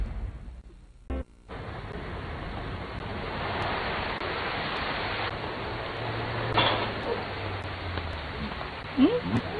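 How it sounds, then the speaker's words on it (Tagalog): Sudden rain comes down in a cartoon scene as a steady hiss of falling water that keeps on under a few brief cartoon sound effects. "Naku, bigla pang umulan."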